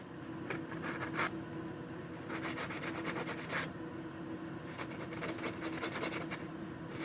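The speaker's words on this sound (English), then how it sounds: "So now I just run it on a sandpaper" A piston ring from a Ford 302 engine is rubbed back and forth on foam sandpaper, giving close, rhythmic bursts of dry scratchy abrasion separated by short pauses.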